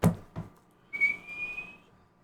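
A person vocally imitating a tabletop fantasy game character's tiny train whistle: a brief thump or two, then one sustained, steady whistle tone of about a second that fades out, close and alone.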